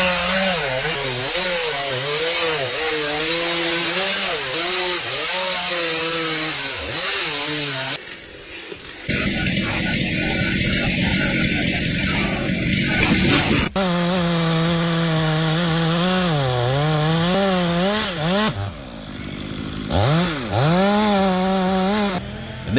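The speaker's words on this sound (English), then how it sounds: "the textbook chainsaw kickback." A chainsaw cuts into a tree outdoors, its engine loud and close, revving up and down in long wavering pulls, with a few abrupt breaks and changes in pitch between cuts.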